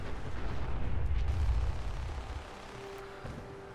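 An exploding enemy in modded Fallout 4 lets out a muffled low boom that swells and rumbles for about two seconds, then fades into a quieter ambient hiss with a faint thud near the end.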